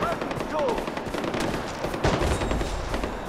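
Suppressed gunfire from the video game Far Cry 4, a steady run of loud, rapid muffled shots close up with no gaps, interrupted by brief sharper bursts.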